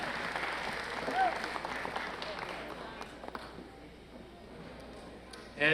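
Applause from an audience at a children's award ceremony rises and fades, with a voice speaking over the clapping.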